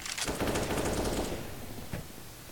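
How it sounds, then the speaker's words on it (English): A suppressed USP pistol in Counter-Strike fires a quick run of muffled shots, close and dense, followed by one more isolated pop, with no talking. "USPs giving their suppressing fire best as possible."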